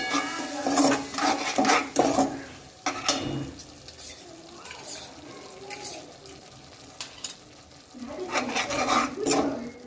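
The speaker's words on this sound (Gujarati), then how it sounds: "હવે આને આપણે મિક્સ કરી લઈએ સારી રીતના" A spoon stirs pasta sauce seasoned with soy sauce and oregano in a pan over medium heat, giving repeated scraping clinks and a soft sizzle, with brief pauses between strokes.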